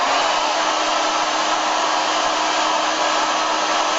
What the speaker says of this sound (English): when I turn the hairdryer on high